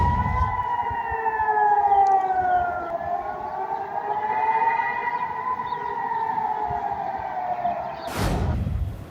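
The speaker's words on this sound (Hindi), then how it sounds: "पहले सायरन सुनिए कि किस तरह से सायरन बज रहा है।" An air raid siren wails during a missile attack from Yemen on Israel, its long steady rising and falling tone carrying from a distance, with a brief loud bang or thump near the end.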